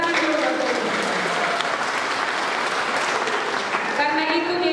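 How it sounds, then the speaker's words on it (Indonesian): A church congregation claps together in a sustained round of applause at a pastoral handover service, dense and fairly loud, with a voice heard briefly at the end as it fades. "Mari tepuk tangan dulu"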